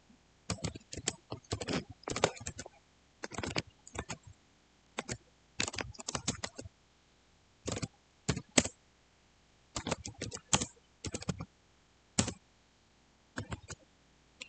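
Rapid bursts of computer keyboard typing in irregular clusters with short pauses, close and clear, while commands are entered at a command prompt; no voices.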